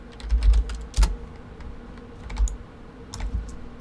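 Keys clack on a computer keyboard while a value is typed into 3D modeling software, short close taps arriving in small irregular bursts with pauses between them.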